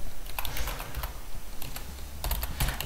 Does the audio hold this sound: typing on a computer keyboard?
yes